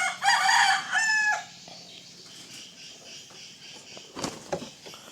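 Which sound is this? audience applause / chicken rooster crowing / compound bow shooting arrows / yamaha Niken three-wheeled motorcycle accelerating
chicken rooster crowing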